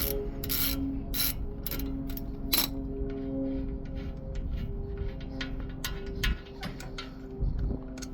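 A 13mm ratchet clicks rapidly as brake caliper bolts are backed out on a 2020 Ford Raptor, with steady bursts of mechanical ticking close by in a quiet garage.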